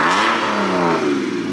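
A BMW 335 at a car meet revs hard, a loud, close engine roar that rises and then falls back within a second and a half.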